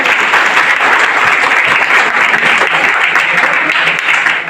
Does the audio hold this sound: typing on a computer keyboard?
no